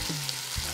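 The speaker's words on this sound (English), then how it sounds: "we're going to flip the beef and brown the other side." Beef browning in a hot pan gives a dense, continuous sizzle and crackle, loud and close, with no voices.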